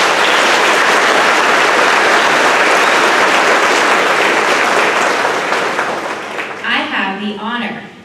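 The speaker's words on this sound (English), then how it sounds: "Let's give Gabrielle Thomas another round of applause" Loud applause from a crowd at an eighth grade graduation ceremony, dense sustained clapping that fades after about six seconds as a voice begins speaking.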